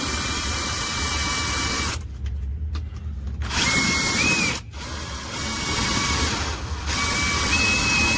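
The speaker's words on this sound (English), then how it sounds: "so we drilled this first hole in the bed" A power drill bores a hole through a pickup truck bed during a fifth-wheel hitch installation, whining loudly and steadily, cutting out twice briefly before resuming with a high grinding tone.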